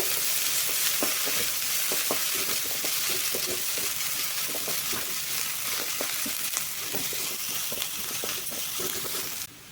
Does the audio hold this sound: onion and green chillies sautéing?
yes